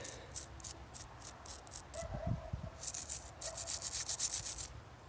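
A bicycle derailleur hanger's threads are rubbed clean in quick repeated scrubbing strokes, faint and close, with short bursts of brushing noise and small metallic clicks.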